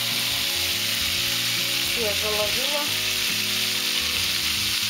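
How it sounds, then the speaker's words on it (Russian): Meat cutlets frying in a pan give a loud, steady, close sizzle that runs unbroken throughout, while someone speaks briefly in Russian in the middle. "Все, вот одна сторона пусть жарится под крышкой."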